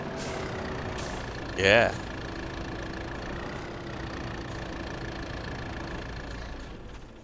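Truck and tractor engines in the video game Farming Simulator 22 idle in a steady low rumble, with a brief louder burst early on and someone speaking briefly over it.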